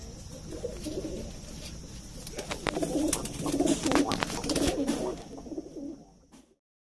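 Indian high-flying pigeons coo in soft, repeated throaty bursts that swell in the middle, mixed with wing flutters and scratchy movement nearby, then the sound cuts off abruptly.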